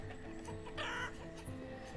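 Chickens cluck from their pens in the farming town of the city-builder game Banished, a steady stream of fowl chatter with one louder squawk partway through, moderately near with no talk.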